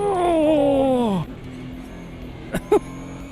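Race car tyres lock up under braking in the Automobilista 2 sim racing game, a loud descending squeal that slides down in pitch for about a second before cutting off, followed by quieter engine hum and two short tonal blips.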